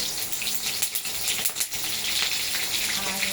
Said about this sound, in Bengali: কালো জিরে আমি ফোড়ন দেব, কাঁচা লঙ্কা, একটা তেজপাতা